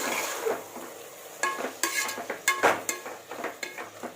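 Food sautéing in a pan with salt mixed in, a quiet background sizzle under a run of clattering stirs and metal scrapes that grows busier in the second half, no talking.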